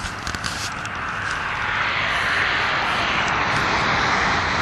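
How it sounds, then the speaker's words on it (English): A Suzuki DS80 dirt bike engine catches on the first kick and settles into a steady, close buzzing idle that grows slightly louder, with no voices over it. "It starts on the first crank."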